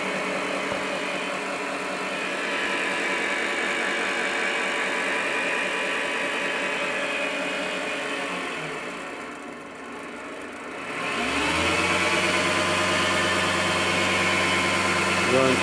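An MX-210 lathe running with a new Sanou four-jaw chuck, a steady mechanical whine and hum that dips briefly as the speed changes, then settles back to an even loud drone.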